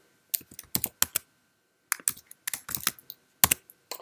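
Keystrokes on a Mac keyboard as a Terminal command is typed, arriving in quick clicky bursts with short pauses between, close and clear with no talking.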